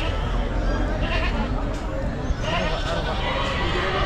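Goats bleating amid a busy goat and sheep market at Chakan, Maharashtra, with nanny goats and kids among the herd; dense crowd chatter and people talking run continuously over the animal calls.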